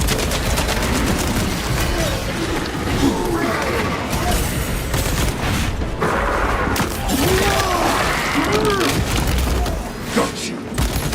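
Turret gunfire in Space Marines 2, loud dense booming bursts over a thick battle din that persists throughout, with voices partly buried in the mix.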